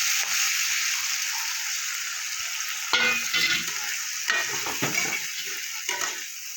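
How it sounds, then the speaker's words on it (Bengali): Onion and spices frying in a pan for an egg curry, with a small splash of water added; a steady loud sizzle runs throughout, broken after a few seconds by repeated clattering stirs and sharper spits, with no talking. "এবার আমি সামান্য একটু জল দিয়ে দেবো যাতে মশলা না পুড়ে যায়।"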